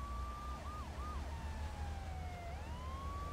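Wailing ambulance siren in the video game GTA III, rising and falling steadily and heard clearly over a low rumbling game background, with no talking.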